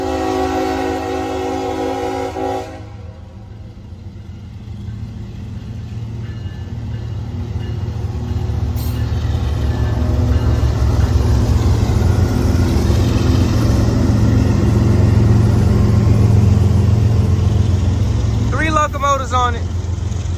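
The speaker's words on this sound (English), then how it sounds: "seen with 3 locomotives on it. Here it comes." Three CSX CW44AC locomotives working through the Greenville rail yard on the L23, a horn blast opening before a long, loud diesel rumble builds and sustains, with wheel squeal and a brief bell toward the end.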